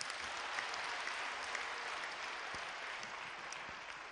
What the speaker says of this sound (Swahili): Mpe Bwana makofi, glory.